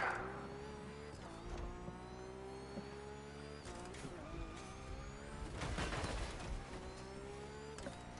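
A racing car's engine in The Crew Motorfest revs and shifts through gears, rising whines that drop at each change, heard from outside the car at fairly low volume.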